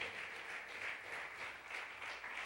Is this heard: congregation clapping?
yes